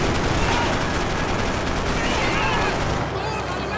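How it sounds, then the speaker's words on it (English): Blind-fire gunshots in the video game Max Payne 3, a dense continuous barrage of shots at steady loudness throughout. "the blind fire in this is a little rough"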